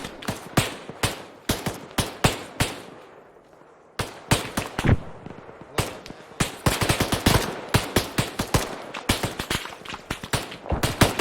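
Rapid gunfire in the Arma 3 military shooter, with dense bursts of loud automatic shots and overlapping distant fire, a short lull near the start before sustained heavy shooting resumes.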